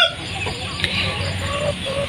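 Free-range village chickens cluck and murmur continuously amid a busy coop background, with soft overlapping calls throughout.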